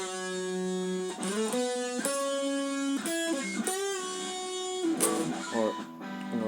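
An electric guitar plays the opening phrase of a solo: a run of clear, sustained notes with bends and slides, played alone at moderate volume.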